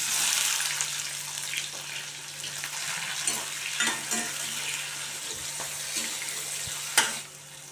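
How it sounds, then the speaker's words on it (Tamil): Onions and green chillies frying in hot oil for a Thanjavur-style murrel fish curry, a steady close sizzle with occasional stirring scrapes and a sharp clatter near the end. "இப்போ வெங்காயம், பச்சை மிளகா சேர்த்துக்கிறேன்."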